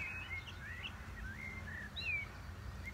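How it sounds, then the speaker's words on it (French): Birds sing in spring countryside, faint whistled phrases and chirps over a low rumbling background that may come from distant tractors. "Des oiseaux et des tracteurs dans ce beau printemps."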